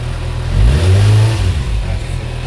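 A 2024 Kawasaki ZX-6R motorcycle engine revs up sharply in a loud burst, holds briefly and drops back toward a rough idle, close by and with no talk over it.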